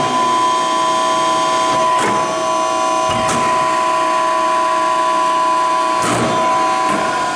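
A Hines 300NC-E hydraulic tube bender hums steadily with a constant tonal drone while making a 45-degree bend, and a few sharp clanks and knocks break through the mechanical hum.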